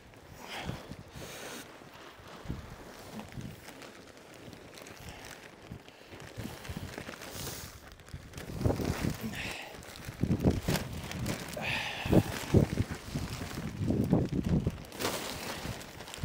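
Gusty wind blows outdoors over a farm silage pit that is being resheeted, buffeting the microphone in uneven surges that get stronger toward the end, with no speech.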